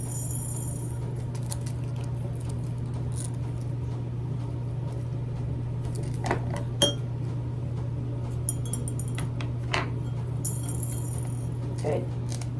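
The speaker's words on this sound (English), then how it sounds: "you're going to dump those in your bowl" Glass beads from a waist bead strand tumbling into a bowl, scattered light clinks and rattles in short bursts, close and fairly soft over a steady background hum.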